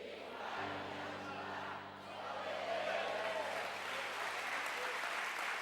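Applause from a church congregation at a Quadrangular service, a steady wash of clapping and crowd noise with a sustained musical tone underneath, dipping briefly before swelling again.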